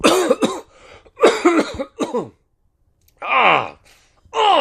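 Several harsh coughing fits close by, in bursts of two or three coughs separated by brief silences, with a throat-clearing rasp.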